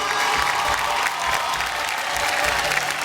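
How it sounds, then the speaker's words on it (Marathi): Loud, continuous applause from a studio audience at a Marathi television game show, dense clapping filling the whole stretch with a little crowd noise mixed in. "एकदा जोरदार टाळ्या होऊन जाऊ दे"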